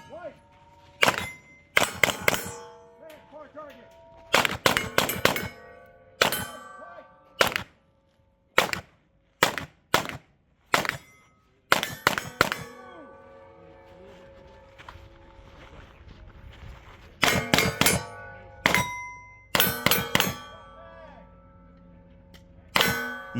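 Pistol shots from a Steyr SPP ring off steel targets in quick bursts at an outdoor shooting course, sharp cracks each followed by a metallic clang, grouped in clusters with short pauses between strings.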